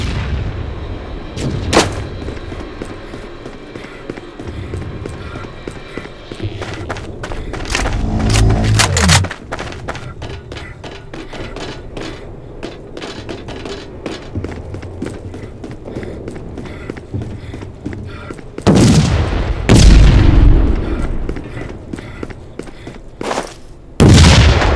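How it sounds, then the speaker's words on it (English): Heavy booming null cannon blasts in Dust 514, a few loud bursts spaced apart over a rumbling background of game noise and movement. "Null cannon targeting hostile MCC."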